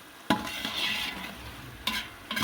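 Chana pulao is stirred and fried in a pot: a steady sizzle punctuated by a few sharp scraping clacks of a spoon against the metal, close and fairly quiet, with no talk.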